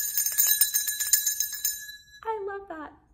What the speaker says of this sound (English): just wiggle your hands like you're doing jazz hands, but you'll do it with your finger cymbals